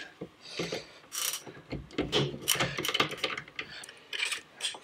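Screws are removed by hand from a Toro eFlex reel mower during disassembly, giving close, irregular ratcheting clicks, scraping and rubbing of metal and parts in short bursts.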